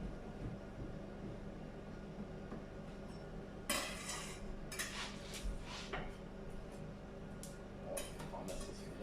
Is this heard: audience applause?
no